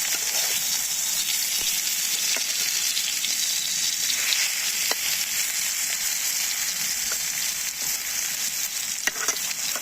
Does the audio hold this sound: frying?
yes